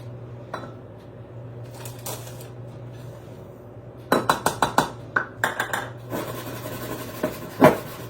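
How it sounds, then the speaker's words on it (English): A scooper digs Bisquick mix out of its container during a cooking class, making a few soft scrapes and then a quick run of clinks and taps, close and moderately loud, with no one talking. "I'm just going to use my scooper to scoop it out"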